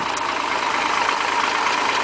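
A 1967 Ford 300 cubic-inch straight-six idles steadily with its exhaust note, a continuous, even rumble that holds close and loud for the whole stretch with no talk over it.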